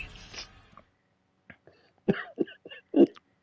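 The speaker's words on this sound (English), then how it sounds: "I'll try to time my coughs" Several short, separate coughs come close to the microphone after a moment of quiet, with a breathy burst at the start.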